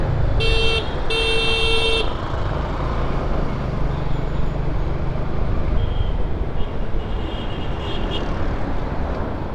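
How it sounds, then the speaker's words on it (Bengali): Car horns toot in short repeated bursts near the start on a busy city road in Dhaka, over a constant roar of heavy traffic and engine noise, with a fainter horn further off later. "মাস্ট হর্ন দেবেন হর্ন দিতেই থাকবেন যেটা আমি করেছি একটু আগে"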